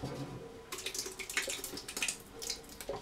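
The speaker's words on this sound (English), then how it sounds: "pour the rice into the blender" Cooked rice and water pour into a blender in a few faint, uneven splashes and gurgles, starting after a brief quiet moment and coming in irregular bursts.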